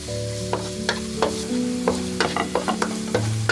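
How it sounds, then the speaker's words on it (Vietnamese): Minced lemongrass fries in oil in a pan, a steady sizzle broken by repeated sharp scrapes and clinks of a utensil stirring it, close up and with no talk. "Cho vào chảo 2 muỗng canh dầu. Cho 2 muỗng canh sả băm vào trước."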